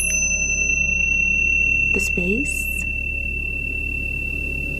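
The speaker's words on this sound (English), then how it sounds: "I wanted to use the tingsha bells" Tingsha bells struck together ring out in two bright metallic chimes that linger briefly over a steady electronic hum, with a few spoken words just before them.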